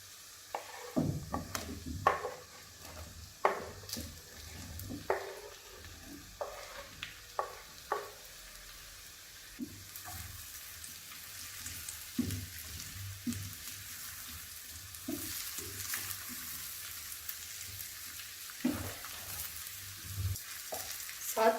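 Chopped mushrooms fry with onions in a pan over medium flame, a soft constant sizzle broken by repeated clattering stirs and scrapes, some sharp and close, with the hiss swelling louder midway; no speech.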